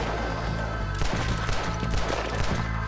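Gunshots ring out in Red Dead Redemption 2, a steady low droning bed broken by a series of fairly close, evenly spaced thumping shots over about two seconds.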